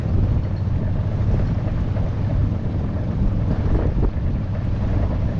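Steady, loud wind buffets the microphone aboard a police search helicopter, a dense continuous low roar and rumble with no pauses throughout.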